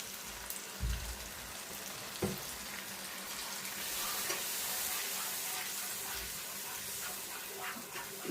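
Milk poured into a sizzling, sugared spiced masala simmering on low gas for paneer, with a steady frying hiss and crackle, a few soft stirring knocks early on, and no talk.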